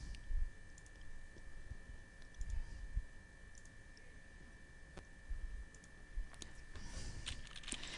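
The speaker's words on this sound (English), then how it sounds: "And then you can type outline in there." Light, sparse clicks of typing on a computer keyboard sit over a low background hum, the keystrokes soft and irregular.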